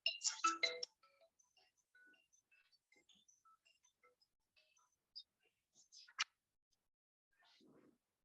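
A mobile phone ringtone goes off loudly during a Hindi academic paper presentation, a bright melodic burst at the start followed by scattered faint electronic tones and a few short chirps in an otherwise quiet room.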